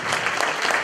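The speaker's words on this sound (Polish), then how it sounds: "Wielkie brawa." A short burst of dense audience clapping at a Polish carol concert featuring folk ensembles, steady and even throughout with no voices.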